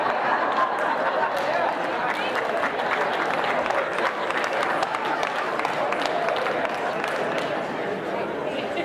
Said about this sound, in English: Now, those of you clapping